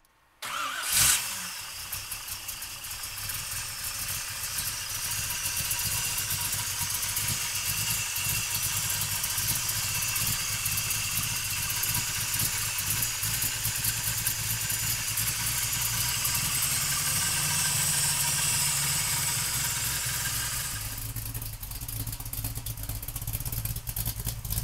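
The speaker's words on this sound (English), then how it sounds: "So come on up and we'll fire it up for you right now." A 1969 Chevrolet Camaro with a big-block V8 cranks and catches within a second, then idles loudly and steadily at close range for over twenty seconds, the rumble changing character slightly near the end.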